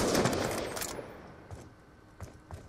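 Black Ops 2 gunfire in a 1v1 match: a loud burst of rapid shots up front that fades away, then a few faint, spaced single shots further off.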